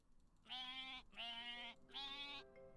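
Sheep in a farm roguelike video game give three evenly spaced, drawn-out bleats, clear and tonal, each about half a second long, alone without talk.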